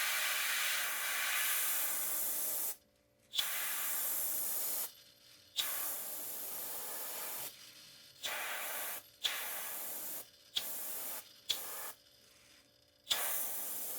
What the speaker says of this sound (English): I'll spray from the back forward, trying to get under those scales.